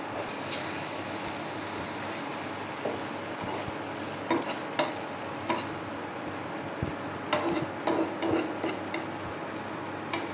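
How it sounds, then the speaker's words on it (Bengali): Egg aloo paratha fries in mustard oil on a hot pan, a steady close sizzle running throughout with a few louder crackles and scrapes near the middle and end. "এইভাবে ভেজে নেব।"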